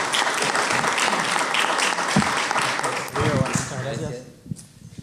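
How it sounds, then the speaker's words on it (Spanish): An audience applauds a conductor at a youth and children's orchestra forum in Uruguay, a dense burst of clapping that fades out after about four seconds as a voice begins. "darle un cálido aplauso de"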